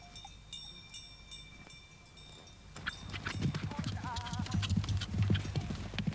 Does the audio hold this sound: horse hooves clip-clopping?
yes